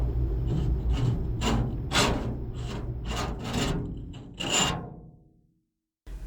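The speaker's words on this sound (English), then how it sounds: "The sound moved from the rear window towards the windshield, slowly dragging like fingernails across metal." Slow repeated scraping strokes drag across car metal like fingernails, about eight rasping passes moving steadily, fairly close and loud, then fading out before a brief final scrape at the end.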